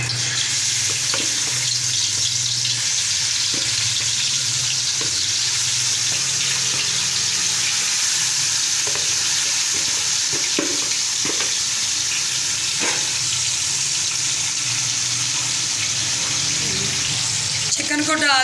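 Chicken pieces frying in a little hot oil in a pan on a stove, giving a steady broadband sizzle throughout with a few brief clatters of stirring, close and fairly loud, with no talk.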